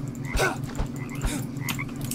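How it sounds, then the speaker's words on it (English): A frog croaks in repeated short bursts, close by, over steady outdoor background noise, with no talking. "This frog keeps trying to get away from me."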